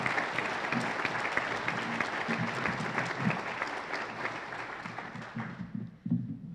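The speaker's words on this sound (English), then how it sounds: "Let's give them another big round of applause." Sustained applause from a banquet audience at a scholarship awards dinner, dense steady clapping that fills the room, then thins and fades near the end.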